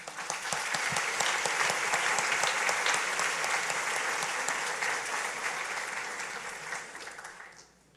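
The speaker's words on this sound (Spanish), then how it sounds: "Un aplauso para ellos que están aquí" A church congregation at a Holy Thursday service applauds visiting francophone guests, a full, sustained wash of clapping that holds steady and then fades out near the end.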